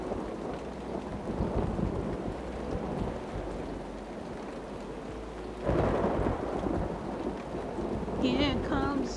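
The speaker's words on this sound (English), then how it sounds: "Yep, there goes the rain." Steady rain falls in the video game Uru: Complete Chronicles, a continuous hiss with low thundery rumbles that swells noticeably partway through, while a few tonal chirps sound near the end.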